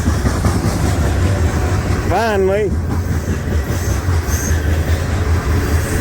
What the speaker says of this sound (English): Hey, there's a grain shuttle. That'll go all the way to Charleston, South Carolina